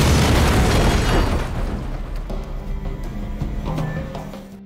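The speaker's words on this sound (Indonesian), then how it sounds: "Setelah itu mereka semua sedikit menjauh dan ledakan pun dilakukan." A loud, close explosion booms and then rumbles and decays over several seconds, with faint clatter of debris afterward.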